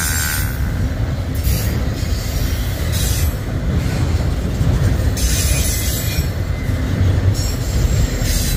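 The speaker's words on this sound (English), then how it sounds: "this was train 112 going through Birmingham on the NS, um, BNSF side, Birmingham, Missouri, Birmingham Diamonds" Train 112 rolls past on the BNSF line at Birmingham, Missouri, near the Birmingham Diamonds, with a continuous loud rumble of wagons, rhythmic wheel clatter and squealing wheels throughout.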